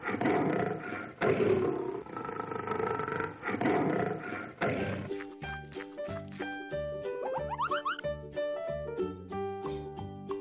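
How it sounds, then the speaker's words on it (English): A lioness gives a few rough, breathy roars up close, then bright playful music with plinking notes takes over for the second half. "Lioness."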